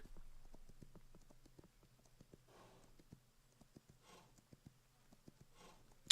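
Horse hooves trotting in Kingdom Two Crowns, a faint steady clip-clop of light hoofbeats with soft swishing bursts between, heard alone.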